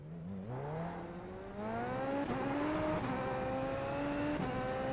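Super Formula SF23 engine in iRacing held at launch, a loud high-pitched revving drone whose pitch climbs and wavers steadily, with brief clicks layered over the sustained whine.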